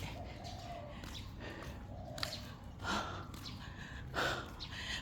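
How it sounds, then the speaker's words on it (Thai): Soft, close panting breaths come in a quiet repeated rhythm, with a few sharper gasping exhales standing out. "ตามด้วยเสียงหอบครับ"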